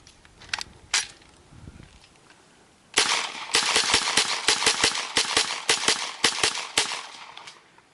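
An M1A1 Thompson submachine gun fires a couple of separate shots, then after a pause lets off a longer string of loud, sharp, closely spaced reports with uneven gaps, heard up close outdoors.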